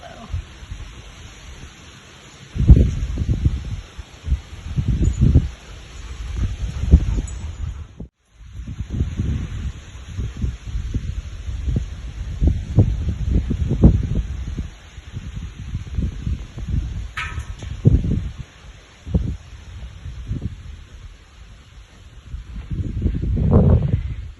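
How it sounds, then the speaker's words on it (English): Gusty wind buffeting a microphone while paragliding, loud low rumbling bursts that rise and fall throughout, with a brief drop-out partway and one short faint tonal blip. "Well, we weathered that gust."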